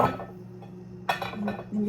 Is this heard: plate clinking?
yes